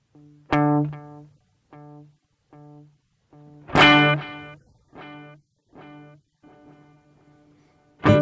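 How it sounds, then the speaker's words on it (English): An electric guitar feeds a pedal set to a long tape-loop echo, so each plucked note or strum returns after a long delay as a string of evenly spaced, gradually fading repeats. "Long tape loop."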